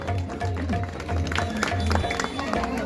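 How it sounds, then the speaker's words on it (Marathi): A crowd at a food festival applauds a prize winner, scattered clapping under ongoing chatter and a public-address voice. "जोरदार टाळ्या झाला पाहिजे."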